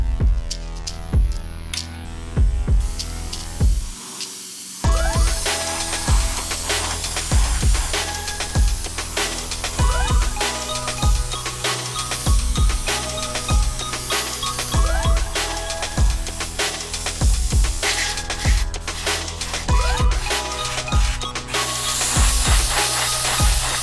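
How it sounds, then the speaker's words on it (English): Airbrush spraying white base coat onto a plastic robot model, a steady close hiss running nearly the whole time with a brief pause, mixed with faint rhythmic background tones. "First, I use my airbrush to give it all a white base coat."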